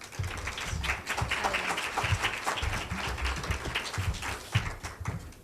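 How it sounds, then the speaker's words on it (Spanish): An audience applauds to welcome a speaker to the stage at a ceremony, a steady, moderately loud wash of many hands clapping that continues throughout. "Recibámoslo con un aplauso."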